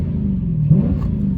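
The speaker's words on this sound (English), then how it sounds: "make sure it's in park before I get the rev" A Dodge 392 Scat Pack V8, parked, idles with a deep, loud, steady rumble and a slight rise in pitch midway, heard close and alone.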